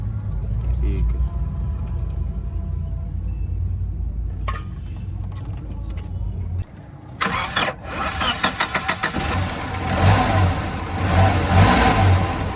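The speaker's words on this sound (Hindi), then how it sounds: "ये जी डिस्ट्रीब्यूटर टाइमिंग ओके हो चुकी है, गाड़ी स्टार्ट है।" A Toyota 3Y engine, its distributor timing freshly set, cranks and catches about halfway through, then runs with a loud, busy idle and a few light revs. Talk and workshop noise come before the start.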